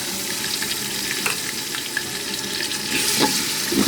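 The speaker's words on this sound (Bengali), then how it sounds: "এখন আমি আদা রসুন বাটা দিয়ে দেব" Ginger-garlic paste goes into whole spices frying in oil for shinni khichuri, with a steady close sizzle, a few light clicks of stirring, and a brief louder flare toward the end.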